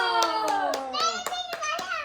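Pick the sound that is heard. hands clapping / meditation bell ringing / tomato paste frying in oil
hands clapping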